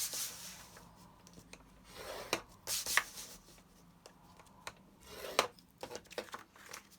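Card being scored by hand for a gift box, a scoring tool drawn along the card in short rubbing, scraping strokes with a few sharper clicks, close and fairly quiet.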